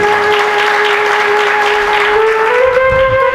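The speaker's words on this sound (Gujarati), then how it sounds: "એક વખત તાળીઓથી વધાવો" Devotees applaud together at a Swaminarayan satsang gathering, a steady wash of clapping that holds evenly throughout while sustained musical tones run underneath.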